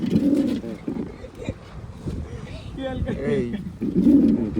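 A red pigeon in a pigeon setup on a farm coos in low, throaty bursts at the start and end, with a person talking nearby in between.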